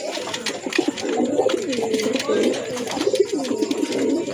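Pigeons coo repeatedly in soft rolling phrases at close range, with a steady murmur of background noise and occasional clicks.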